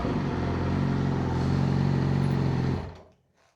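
A motorcycle idles and runs on its current stock exhaust, a steady close engine drone for a few seconds that then cuts off into near silence.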